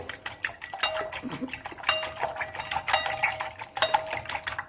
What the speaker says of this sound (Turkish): Yumurtamı şöyle biraz çırpacağım öncelikle